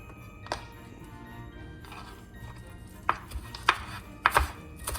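Knife chopping fresh herb leaves thinly on a cutting board for a creamy Tuscan chicken soup, a few sharp separate taps then a quicker cluster of close chops, with light background hiss and no talking.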